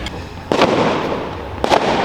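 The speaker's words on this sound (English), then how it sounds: "you can hear the fireworks going off now" Fireworks go off at night at the PortAventura World theme park: two loud booming bursts about a second apart, each trailing off into a rumbling crackle over steady background noise.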